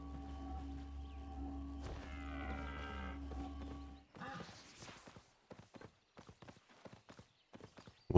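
Horse hooves clip-clop in the Albion Online video game on a snowy map, a run of irregular, fairly close hoofbeats following a steadier hum and a brief animal call.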